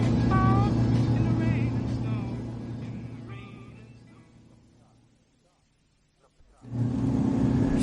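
A car drives along in a radio drama, a steady motor hum that fades down to near silence, then returns loud and close, with a voice briefly heard over it near the start.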